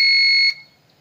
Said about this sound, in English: Whenever it is below 180, also that time this buzzer is on and this relay is off.